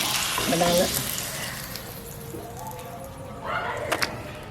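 Papads (appalam) sizzle in hot oil with crackling pops, a moderate frying hiss that swells near the end, with faint background sounds.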